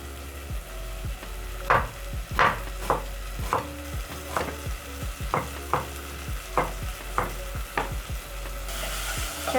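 Tomatoes cook in a pan with a soft sizzle under a low steady hum, while regular chopping knocks repeat at roughly even intervals close by.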